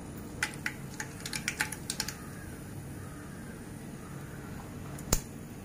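Mustard seeds spitting in a pan of hot oil for a sev tomato curry: a quick burst of sharp, close crackles and pops, then quieter sizzling and one last loud pop, with no talking.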